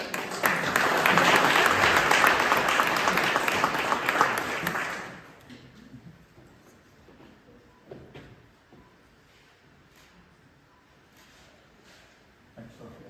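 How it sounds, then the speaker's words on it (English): An awards banquet crowd at a drag racing event claps loudly for about five seconds, then the applause stops abruptly and quiet room noise with scattered faint knocks and murmurs follows. "one more round of applause for Derek"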